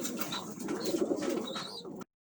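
Soft cooing from Van pigeons close by, with a busy flutter and shuffle of birds underneath, ending abruptly.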